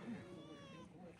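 A cat on a mountain trail near Sandakphu in the Himalayas gives one short, faint, drawn-out meow, heard up close in a quiet setting.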